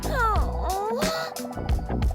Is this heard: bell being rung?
no